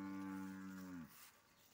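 A single long, low cow moo, close and clear, fading into quiet.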